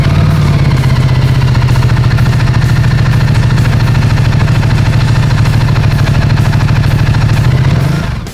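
A Ducati Multistrada 1260 Grand Tour motorcycle engine runs loud and close at a steady, throbbing idle for several seconds, then rises briefly just before cutting off.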